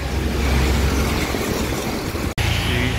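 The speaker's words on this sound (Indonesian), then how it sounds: "Sedikit terganggu ya, ada mobil ini ya." A car drives past on the road near a bus stopped in traffic, a steady, fairly loud engine rumble with tire and road noise and a brief dropout near the end.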